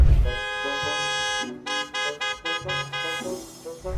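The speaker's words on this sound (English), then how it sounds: "except for the blaring car horns outside" Car horns blare outside, first one long sustained honk and then a run of short repeated toots before a final longer blast, loud and close.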